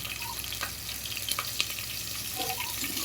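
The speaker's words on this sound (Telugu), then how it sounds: "పచ్చిమిరపకాయలు కొంచెం ఫ్రై అవ్వాలి." Green chillies fry in a pan while pongal is being made, giving a steady, close sizzle with light crackles and a few soft stirring scrapes and no talking.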